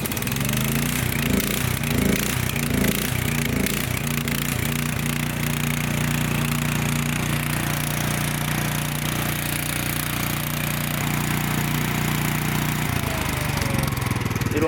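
A Miller generator/welder engine running loud and close with a steady, rumbling low drone and a rhythmic knocking early on, settling into an even idle and then dropping slightly in pitch near the end.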